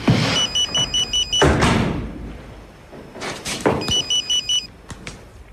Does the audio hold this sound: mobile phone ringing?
yes